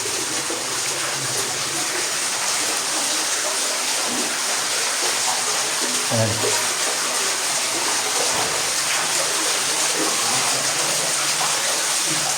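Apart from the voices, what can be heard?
water flowing into a hole in the ground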